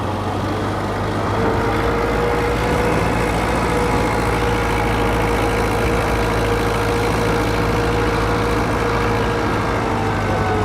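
A tractor's engine runs steadily on a village road, a loud continuous low rumble with a droning hum that holds without a break, heard close and alone.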